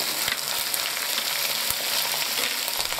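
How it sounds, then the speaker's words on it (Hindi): Green chillies sizzling in hot oil while cooking moong dal, a steady bright crackling hiss with occasional soft pops and stirring knocks, close and continuous with no talking. "हरी मिर्चों को थोड़ा सा फ्राई करेंगे"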